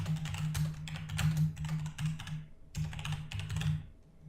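Quick bursts of typing on a computer keyboard, close and fairly soft, with a short pause midway before another run of clicking keys that trails off at the end.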